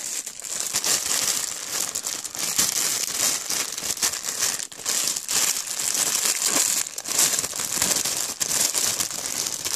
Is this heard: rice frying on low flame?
no